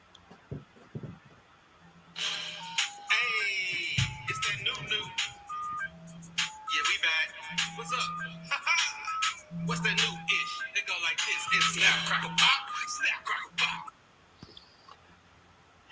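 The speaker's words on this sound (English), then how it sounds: "I'm going to make the phone ring, y'all." A telephone ringtone plays a repeating electronic melody of short bright notes, loud and close, running steadily for about twelve seconds before cutting off.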